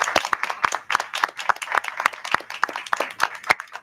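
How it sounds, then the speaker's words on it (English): Scattered applause from a school board meeting audience in Johnstown-Monroe honoring a board member, a modest crowd clapping in an uneven, sparse rhythm of distinct claps for about four seconds with no talking. "So let's give her a round of applause."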